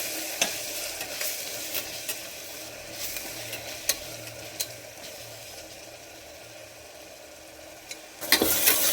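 Tomato paste made from two tomatoes frying in a pan for mutton keema, a steady close sizzle with intermittent scraping taps of a spoon stirring, louder clatter at the end.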